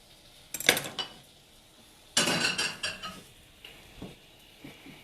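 A frying pan handled on a stovetop while cooking breakfast gives two sharp bursts of metallic clatter and clanking, then a few lighter knocks, close and clear with no talking.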